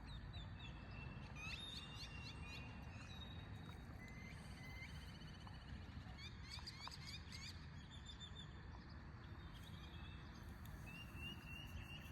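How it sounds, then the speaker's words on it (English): Many birds chirp and trill in quick overlapping calls in the Arizona desert, fairly distant, over a soft outdoor background hiss. "the birds are so loud, but in a good way"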